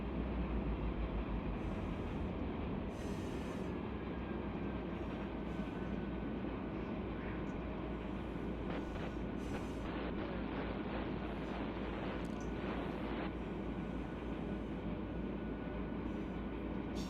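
A train in the Run 8 train simulator game rumbles along steadily with a deep continuous roar and faint high squeals, running alone at a constant level throughout.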